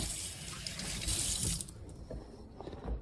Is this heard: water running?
yes